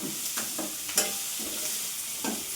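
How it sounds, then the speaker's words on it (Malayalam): Capsicum being stirred and sautéed with masala in a pan, giving a steady close sizzle with several distinct scraping strokes of the spoon against the pan. "ക്യാപ്സിക്കം ഇട്ട് ഒന്ന് വഴല"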